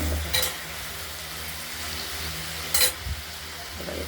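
Vegetables fry with turmeric in an oily pan for a potato, ridge gourd and onion curry, giving a steady close sizzle broken by two brief stirring clatters.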